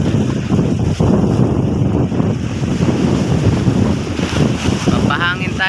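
Loud, steady sea wind buffets the microphone with a constant roar, while water sloshes faintly and a voice speaks briefly near the end.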